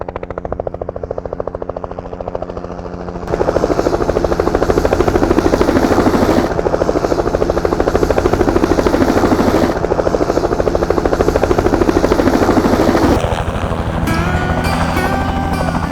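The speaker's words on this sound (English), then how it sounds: "Here comes the helicopter now." A helicopter's loud, steady rotor chop fills the air at Katherine Gorge, swelling as it draws closer and then easing slightly near the end.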